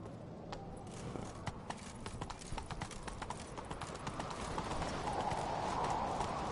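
A horse gallops in the video game Witcher 3, its hooves beating in a quick, even rhythm on the ground, with the pace building slightly toward the end.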